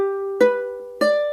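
Three ukulele strings plucked together as a chord, ringing and fading, then struck twice more, close and alone.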